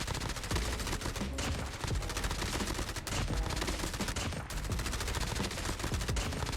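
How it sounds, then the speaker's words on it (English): Hip-fire gunshots in a battle royale video game crackle in dense, fast bursts that run almost without break across the whole stretch, fairly quiet overall with no talking. "now just do the same thing, but you're gonna shoot with the hip fire"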